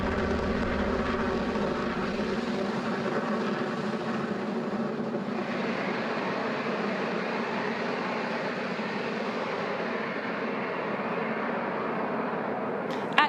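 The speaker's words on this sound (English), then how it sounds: "Falcon 9 has successfully lifted off from Space Launch Complex 40 at Cape Canaveral Space Force Station." A SpaceX Falcon 9 rocket with booster 1069 lifts off from Space Launch Complex 40 at Cape Canaveral, producing a sustained distant rumbling roar that fades slightly as it climbs.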